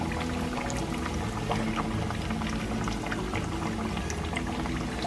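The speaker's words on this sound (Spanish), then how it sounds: "Vamos a ir sacándolo, escurrir bien el aceite." Hot frying oil crackles and drips as fried mojarra fish, a Colombian recipe, is lifted out to drain; a steady, dense sizzle and patter runs close and continuous throughout, with no voices.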